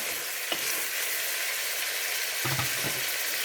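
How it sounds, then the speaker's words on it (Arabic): Onions frying in a pan, a steady loud sizzle filling the whole clip, with a few soft stirring scrapes over it and no talk. "ومن بعد غادي نزيد عليها البصل. البصل كان هو خاصو يتحمر."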